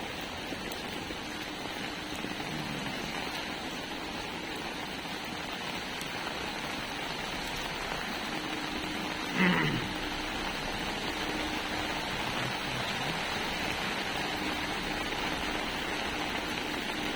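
Steady rain falls outdoors on a road, a constant hiss of drops on the surface running throughout, with one brief louder knock partway through and no voices.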